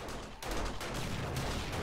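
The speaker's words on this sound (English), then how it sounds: "Oh yeah, we get a double explosion." Two thrown grenades go off in quick succession in the survival game 7 Days to Die, as loud, dense blasts with a sustained rumbling roar and no voices.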